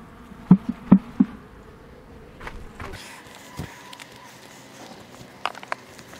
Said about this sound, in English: So absolutely nothing on here except a few bees hanging out.